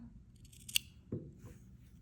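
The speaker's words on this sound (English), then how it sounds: "You don't cut through the stitches, so I will just go very close." Scissors cutting fabric close to the stitches of a shirt collar, a couple of faint short snips with a small thud in a quiet room.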